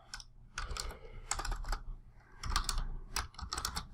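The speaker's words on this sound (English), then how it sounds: "Except my typing is atrocious right now." Quick, uneven bursts of clicking keystrokes on a computer keyboard, typed close up in several clustered runs with short pauses, no voices.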